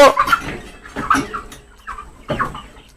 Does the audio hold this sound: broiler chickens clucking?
yes